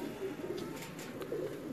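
A female long-tailed pigeon cooing softly, a low throaty murmur rising and falling twice over faint background hiss.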